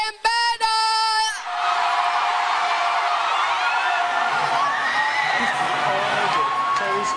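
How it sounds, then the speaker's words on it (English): A crowd at a televised children's talent show cheers and whoops loudly after a brief opening of tonal sounds, with excited shouts rising and falling over a sustained roar. "help me welcome, with a round of applause, Ezvene"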